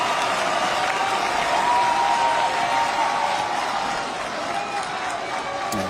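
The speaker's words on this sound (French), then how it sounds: "Ouais, très applaudi." Stadium crowd applauding as substitutes come on at a Senegal versus Saudi Arabia football match, a dense, continuous wash of clapping and cheering that slightly fades toward the end.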